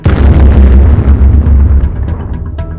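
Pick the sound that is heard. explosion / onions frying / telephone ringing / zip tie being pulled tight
explosion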